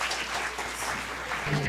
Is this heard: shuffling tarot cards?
no